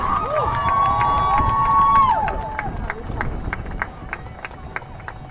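At a women's soccer senior day, a stadium crowd applauds with sharp, rhythmic claps and cheering, while a voice shouts a long held call near the start. The clapping continues under the general noise.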